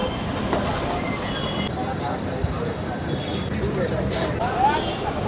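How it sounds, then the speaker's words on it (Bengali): Train noise at CSMT railway station in Mumbai: a steady rumble of rail traffic with faint clatter and brief wheel squeal, heard amid busy city ambience, with voices faintly mixed in. "CSMT railway station."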